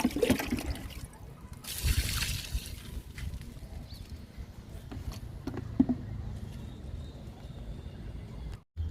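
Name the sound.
pouring aloe vera liquid onto guava plant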